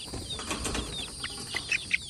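Chickens in a cage flap their wings as they fly up, a close, busy rustle of feathers with faint chirps and clucks scattered through it.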